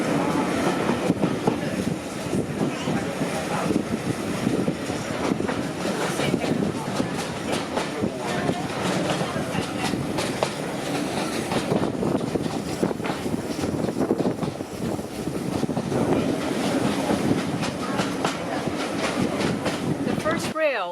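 A heritage train rolls along the Tenterden line of the old Rother Valley Railway, a continuous rumbling clatter with wind buffeting the microphone and a voice talking over it.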